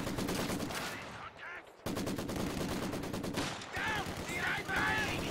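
Rapid bursts of machine-gun and rifle fire in a strategy video game battle as a combat engineer is sniped, dense crackling volleys at steady volume, with a commentator's voice over parts of it.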